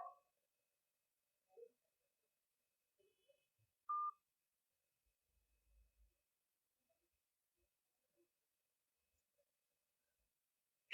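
Faint, sparse telephone keypad tones and clicks over near silence, a few short beeps spread out, as a phone call fails to connect.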